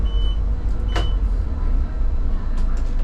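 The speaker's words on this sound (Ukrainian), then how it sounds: "Відчиняю всі двері." A city bus idles at a stop while its doors open with a short pneumatic hiss and clunk, heard close over a steady, loud engine rumble.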